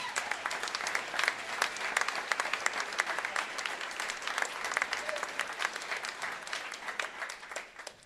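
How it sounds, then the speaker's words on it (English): Sustained audience applause at a school jazz band concert, a dense steady wash of many hands clapping for about eight seconds, fairly even in loudness and tapering slightly at the end. "give them a round of applause"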